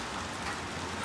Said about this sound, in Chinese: 那是外面大雨的声音了